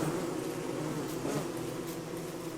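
Bees buzzing in the video game Don't Starve, a steady, dense drone holding at even loudness throughout without pause, heard alone with no talk.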